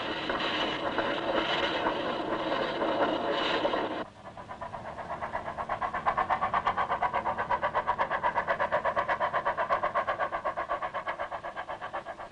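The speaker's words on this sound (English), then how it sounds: "with a wave from the engine driver, the quaint, narrow-gauge train pulls out of Douglas Station," Narrow-gauge steam train pulling out of Douglas Station, a continuous mechanical rumble that shifts into a fast, regular chuffing rhythm, fairly close and steady, no voices.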